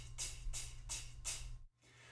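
A voice imitating an open hi-hat with vocal percussion: four breathy, hissing "ts" strokes in an even rhythm, close and soft, over a low background hum.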